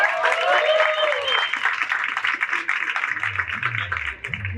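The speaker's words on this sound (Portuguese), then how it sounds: "Aplausos para a Litera Cultural." Audience applause at a bookshop talk in Santos, Brazil, sustained and fairly close, with whistles or cheers near the start and a voice coming in at the end.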